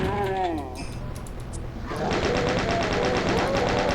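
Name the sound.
shooting gunfire at demons in the video game Doom (Sigil)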